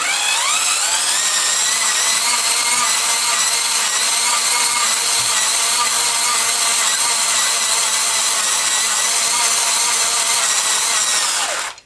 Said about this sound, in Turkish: Bu şarjlı tornavida aynı zamanda dinamo olarak da kullanılabiliyor